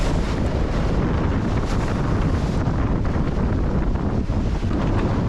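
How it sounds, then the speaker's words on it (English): Strong wind roars and buffets the microphone aboard a sailboat at sea as stormy waves build, a loud, continuous broadband rush with no voices. "with weather and waves continuously increasing towards stormy conditions"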